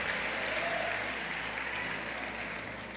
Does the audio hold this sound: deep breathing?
no